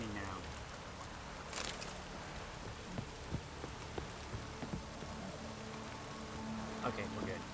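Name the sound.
rain in the video game The Witcher 3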